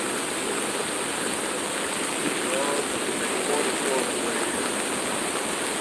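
Steady broadband rush of gushing waterfalls at the Last of the Mohicans historical site, a constant distant roar of falling water with no break, filling the whole scene.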